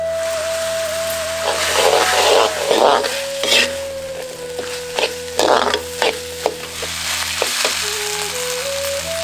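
Steady sizzling of tomatoes and green peas sautéing in a hot pan, with intermittent scraping and stirring clatter and a faint tonal hum underneath.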